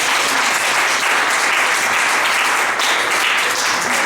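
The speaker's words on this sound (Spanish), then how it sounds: "Dale un aplauso al Señor." Loud, dense applause from a church congregation fills the space steadily from start to finish, with no one speaking over it.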